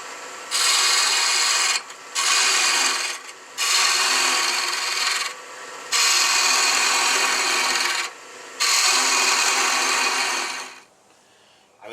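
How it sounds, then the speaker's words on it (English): A 3/8 inch Ellsworth-type bowl gouge cuts a wooden egg spinning between centers on a lathe: five loud, rasping hiss-like passes of one to two seconds each, separated by short pauses, then the cutting stops. "Then I'm going to take my 3/8 inch Ellsworth type bowl gouge"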